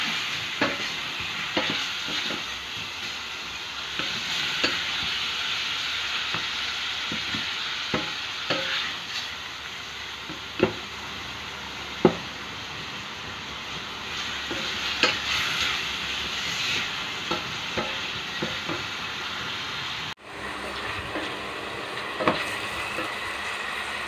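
Beef pieces brown in a pan with a steady, bright sizzle, punctuated by occasional pops and light scrapes, with no voices.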